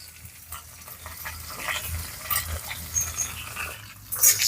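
Dried and green chillies frying with curry leaves in oil, a quiet sizzle with light irregular stirring and scraping, growing slightly louder near the end, close and without speech.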